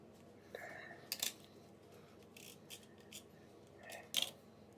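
Scissors snip through paper name cutouts for a scrapbook layout, a few quiet, sharp crisp cuts spaced over several seconds with soft paper rustling between them, close but faint against a low room hum.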